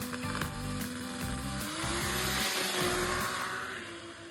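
Race car engine drives past nearby, a loud continuous buzzing roar with rising and falling revs and whining gear tones, swelling toward the middle and easing off at the end, with no voices.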